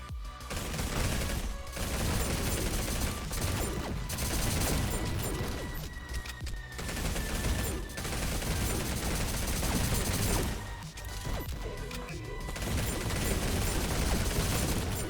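An SMG in the video game GTTOD: Get To The Orange Door rattles off long, loud, dense bursts with brief gaps between, amid chaotic impacts and crashes of the fight.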